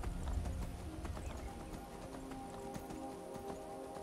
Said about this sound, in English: Oh, Inigo, were you running with the horse instead of actually riding it?